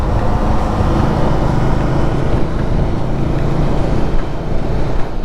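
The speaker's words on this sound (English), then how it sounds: "Listen to that inline 3-cylinder." Engine of a Triumph Speed 400 motorcycle under way, a loud, continuous rumble blended with heavy wind rush on the microphone, with no pauses.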